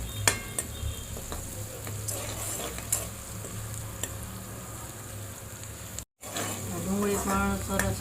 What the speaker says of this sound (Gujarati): ડુંગળી પણ સરસ ફ્રાય થઈ ગઈ